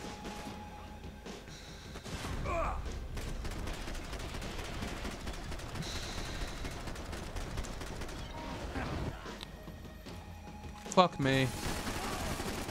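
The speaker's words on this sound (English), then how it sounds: "that bullet just went right over my shoulder" Gunfire and bullets in the game Max Payne 3: steady loud rattling fire and impacts throughout, with sharp cracks and a heavier hit near the end and a brief spoken exclamation.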